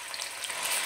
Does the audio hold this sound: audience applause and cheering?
no